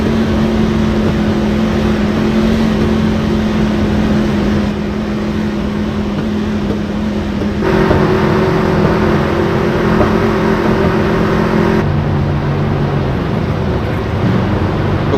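Race cars circle a track under caution, a steady droning engine hum that shifts pitch as the cars pass, moderately loud and continuous, with no talking over it.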